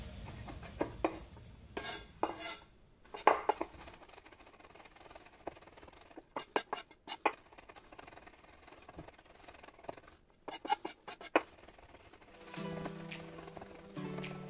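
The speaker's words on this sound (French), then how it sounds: "on va s'occuper de notre ail, donc on va le hacher assez finement pour mettre de notre marinade" Garlic chopped finely with a knife on a board for a beef-and-onion marinade, giving sharp, irregular taps in quick bursts separated by short pauses, close and moderately loud with no talking.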